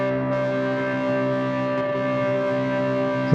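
A steady synth tone through the interference effect of a Hologram Chroma Console pedal, a buzzing, slightly gritty layer over it, holding evenly throughout with a brief burst at the end.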